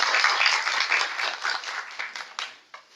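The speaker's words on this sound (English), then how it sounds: "thunderous applause for her" An audience applauds Susan Holden at an English-teaching talk in Lima: dense, steady clapping from a roomful of people that thins out and fades to a few last claps near the end, with no talking.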